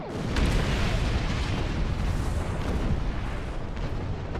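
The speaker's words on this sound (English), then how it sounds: "Photon torpedoes maximum." Photon torpedoes fired in Star Trek Online during a starship battle, with a dense, continuous roar of booming blasts and rumbling explosions that stays loud from start to finish.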